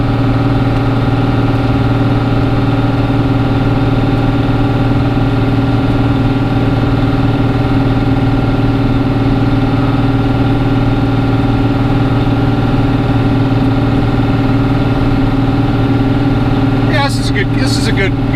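Cummins 12-valve diesel in a dually pickup pulling a 32-foot fifth-wheel trailer up a steep Oregon coast grade in second gear at about 2,300 RPM: a loud, steady, droning engine note throughout, with a brief clatter near the end.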